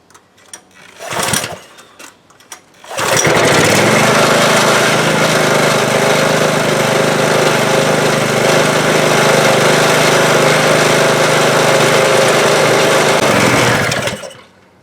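A Husqvarna pressure washer engine fires up after a few short rattles and runs at a steady set RPM, a loud, close, even drone for about eleven seconds before cutting off.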